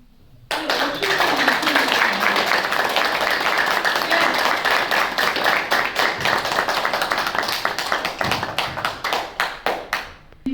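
A meditation audience claps for their teacher, the applause starting abruptly, staying dense and sustained, then breaking into sparse individual claps near the end.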